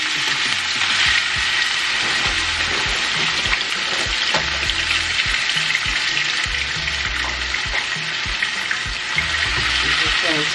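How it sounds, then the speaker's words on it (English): Frozen shredded hash browns fry in a hot pan with a loud, steady crackling sizzle, broken by scattered clicks and scrapes of a utensil moving them around. "And so you're going to add them in frozen, and you want to do a little at a time"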